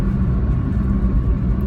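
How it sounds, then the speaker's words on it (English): A 1992 Fiat Uno's engine drones steadily while driving, a loud, continuous low rumble and whir from inside the car, with no one talking. "you can actually hear that engine"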